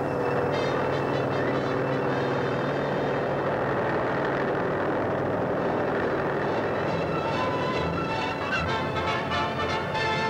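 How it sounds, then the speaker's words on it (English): In 1946 newsreel footage, a helicopter in flight makes a steady, loud mechanical drone with a rhythmic rotor throb that carries through the whole stretch. "The American helicopter is assured a busy place in the future of aviation."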